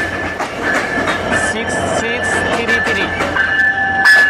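The Panchagarh Express intercity train rolls into Natore station in Bangladesh. A loud, steady rumble carries rhythmic clickety-clack from the wheels, with a high squeal from the wheels or brakes. Someone talks over the noise.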